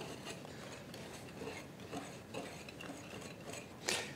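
Dry ingredients including baking soda and ground cinnamon whisked in a bowl for granola muffins make a faint, steady rhythmic scratching and ticking, close by, with a slightly louder stroke at the end.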